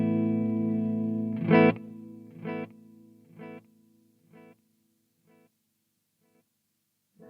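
A distorted guitar chord from a Marshall MG50CFX amp rings out, followed by a series of rhythmic hi-fi delay repeats that fade steadily quieter, each echo clean and evenly spaced.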